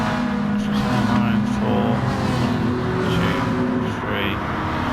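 Race cars lapping Monza in a racing video game, a steady loud engine drone with passing cars, running under continuous commentary.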